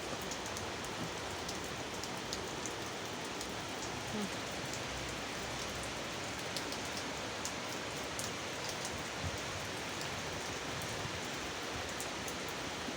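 Steady rain pours down in an unbroken, dense hiss with soft pattering on surfaces, holding an even loudness throughout, and no one speaks over it.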